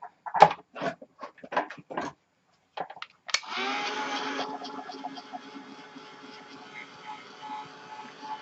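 Heat gun blowing steadily on inks in a craft workspace, a sudden loud whooshing roar that settles into a constant hum, preceded by someone speaking.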